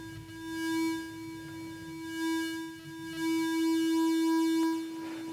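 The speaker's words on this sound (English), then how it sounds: "you can hear that the pulse width control is being controlled by the sine wave here of oscillator A" A synth oscillator's pulse-width output swept by a slow sine-wave LFO from oscillator A, giving a steady buzzing tone whose timbre swells and thins in slow cycles, alone and moderately loud.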